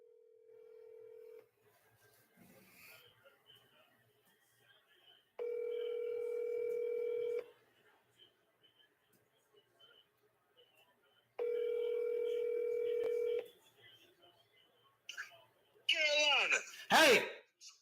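Incoming phone call ringing: a quiet tone, then two long loud ring bursts of about two seconds each, separated by a pause, with a voice shouting briefly at the end.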